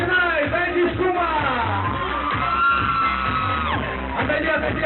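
A loud Halloween party crowd whoops, yells and shouts together in a sustained excited roar, with children's voices prominent throughout.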